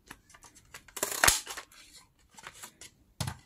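A hole is punched into a sticky notepad for a junk journal, heard as a sharp close-up crunch and snap in the middle, surrounded by light handling clicks and rustles, with no talking.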